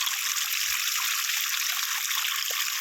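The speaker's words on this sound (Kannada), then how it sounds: "ಬೋರಿನ ಮೇಲಿನಾಸಿ ಕೇಸಿಂಗ್ ಒಳಗಾಸಿ ನೀರು ಬರ್ತಾ ಇದೆ." Groundwater from a 1000-foot farm borewell, filled by heavy rains, overflows from the top of its casing as a faint, steady trickling hiss with a few soft splashes and no voices.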